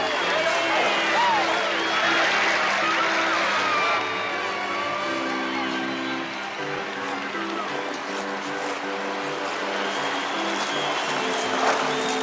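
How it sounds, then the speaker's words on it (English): A travelling hockey booster club applauds inside an arena, a broad, steady wash of crowd clapping and cheering, with a voice talking over it. "They're getting a good round of applause from their own booster club"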